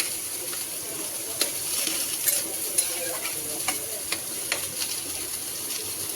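Bottle gourd and prawn curry being stirred in a pot with the lid lifted, soft scraping and a low steady sizzle, with a few sharp clicks of the spoon against the pot.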